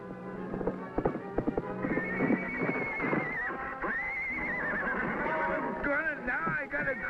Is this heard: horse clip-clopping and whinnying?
yes